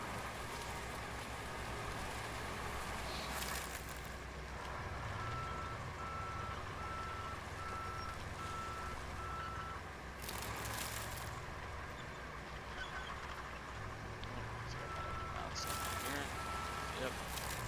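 Steady repeating reversing beeps from a truck in the RoadCraft video game, sounding at even intervals over a loud rumbling engine and rain-like hiss, with someone talking over it.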